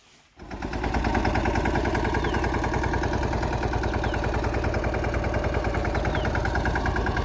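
A large farm tractor's engine runs at a steady idle after starting up, a loud, close, continuous rhythmic diesel chug with a low pulsing throb and no voices.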